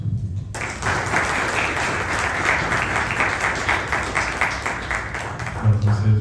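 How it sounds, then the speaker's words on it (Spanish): Audience at a masterclass with a Commonwealth deputy secretary-general breaks into sustained, full applause that starts abruptly and stays loud and even for several seconds, with a voice starting to speak near the end. "un fuerte aplauso"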